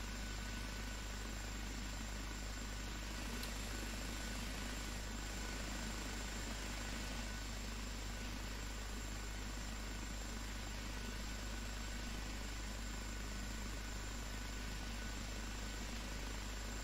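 An OH-58D helicopter engine in a flight simulator runs at full throttle as a steady, unbroken drone with a constant whine above it, holding at a low level throughout.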